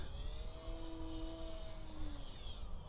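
An FT Edge 540 RC model airplane with a Spirit GT flies overhead at a distance, its faint motor whine gliding up and down in pitch over a breezy outdoor background.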